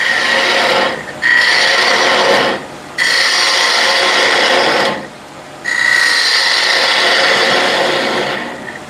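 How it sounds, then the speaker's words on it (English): A ball gouge cuts into wood turning on a lathe, hollowing a slight dome. The sound is a loud, close rasping hiss that comes in three long bursts, separated by brief gaps where the tool lifts off. "So back with the ball gouge."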